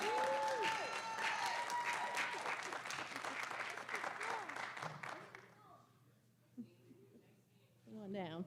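A cheering section claps and cheers loudly at a Board of Education meeting, dense applause fading out over several seconds with voices talking afterward.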